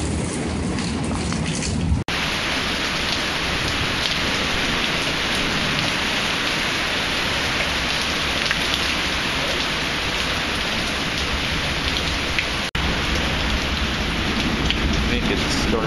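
Heavy, steady rain pours during a supercell and derecho storm in Stockbridge, Georgia, in June 2013, a dense and continuous near wash with two brief breaks and no clear thunder.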